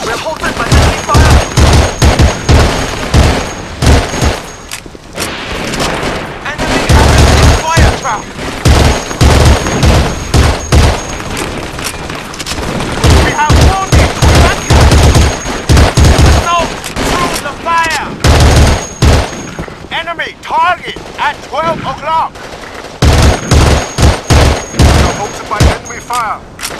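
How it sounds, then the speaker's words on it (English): Dense video-game gunfire from Battlefield 2: Modern Combat on PS2 during an oil-rig defense, with rapid broadband bursts and heavy shots repeating loudly throughout, thinning briefly in the latter part. "We're halted by enemy fire."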